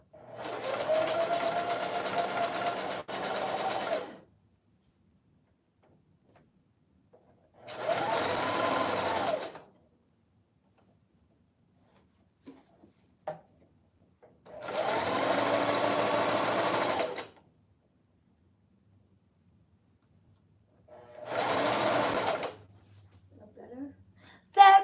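Sewing machine running a zigzag stitch on a wig, in four separate bursts of a few seconds each with quiet gaps between them, close and steady.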